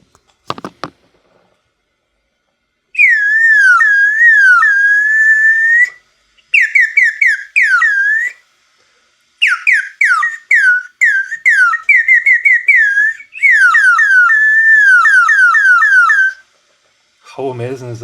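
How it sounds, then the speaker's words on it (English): A 3D-printed bird whistle filled with water, blown in several bursts of warbling, trilling chirps that sound like a songbird, loud and close, separated by short silences. "when you blow into it like a whistle, sounds like a real bird"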